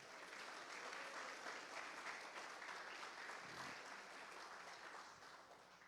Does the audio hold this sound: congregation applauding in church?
yes